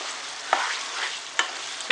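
Rice pulav with peas cooking in a pan over a high gas flame, with a steady soft sizzle and three sharp scraping stirs at regular intervals.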